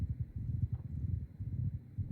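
A horse gallops in the medieval combat video game Mount & Blade II Bannerlord, giving steady low, rapid hoofbeats that pound continuously at moderate volume with no talking.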